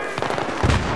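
A grenade goes off in Battlefield 3 during a squad rush match, one sharp close blast with a rumbling low-end burst after a moment of scattered game noise.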